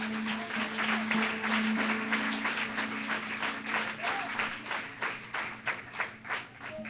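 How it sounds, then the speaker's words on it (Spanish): Church congregation applause: a crowd claps in a steady, rhythmic pattern that becomes more distinct toward the end, with a voice faintly underneath. "Denle el aplauso al Señor."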